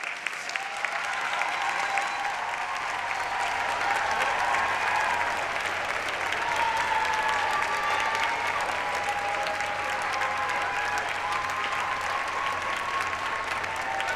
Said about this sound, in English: Please stand so your children can give you a well-deserved round of applause for your unwavering